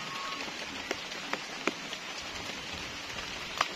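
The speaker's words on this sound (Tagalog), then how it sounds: "Umuulan naman dito ngayon, July 27." Rain falls steadily in an outdoor garden, a soft constant patter with a few sharper drops striking a surface nearby, and no one speaking.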